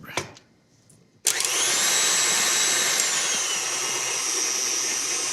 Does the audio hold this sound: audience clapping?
no